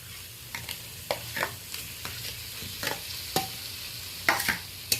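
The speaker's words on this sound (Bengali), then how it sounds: "মশলার সাথে বেগুনটা আরও এদিক ওদিক করে আমি 1-2 বার নেড়ে নেব।" Fried eggplant being stirred into spice paste in a pan, with a steady low sizzle broken by a dozen or so sharp scraping and clattering stirs spaced irregularly throughout, close and moderately loud.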